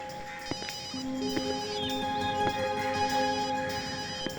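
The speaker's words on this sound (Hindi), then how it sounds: "सर घंटी बज रही है।" A mobile phone rings with a steady electronic ringtone of sustained tones repeating, heard alone at moderate level.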